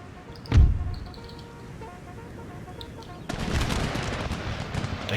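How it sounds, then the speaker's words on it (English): A single heavy artillery boom from the strategy game Empire Total War lands early, then gives way to low battlefield rumble and a swell of dense crackling musket-like fire near the end. "Artillery is still doing a good job."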